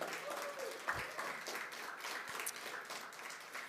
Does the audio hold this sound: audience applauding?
yes